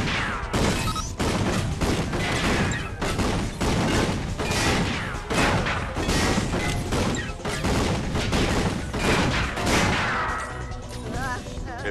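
Rapid weapon fire in Ratchet & Clank: All 4 One, dense overlapping bursts of blasts and impacts repeating loudly and almost without pause for the whole stretch.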